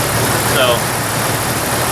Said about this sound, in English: immediately when I started up it went down to the usual idle